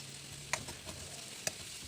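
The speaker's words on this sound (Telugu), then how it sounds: "కడాయి తీసేసుకొని దాంట్లో 2 గరిటెలు ఆయిల్ వేసేసి, ఆయిల్ వేడెక్కాక ఆనియన్స్ వేసి వేయించుకోవాలి" Onions fry in two ladles of oil in a kadai with turmeric and salt, a quiet steady sizzle broken by two sharp spatula clinks against the metal pan as they are stirred.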